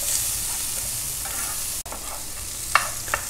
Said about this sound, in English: my garlic is nicely sauteed, as well as onions are also